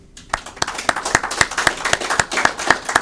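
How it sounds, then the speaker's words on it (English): Graduation audience clapping in a steady, evenly spaced rhythm, with each clap sharp and distinct at moderate volume, with no voices. "Class 14, you owe yourself a big round of applause"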